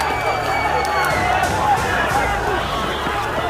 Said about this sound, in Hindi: अब लोगों का शोर सुनिए।